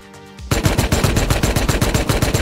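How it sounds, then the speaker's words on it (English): A rocket launcher shot in the video game Rust, a loud sudden blast after a quieter moment, followed by a rapid run of rhythmic booming pulses, with no talk. "He just shot a real rocket at me."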